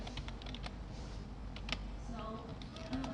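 Steady typing on a computer keyboard, a quiet run of light clicking keystrokes at close range over a low background hum.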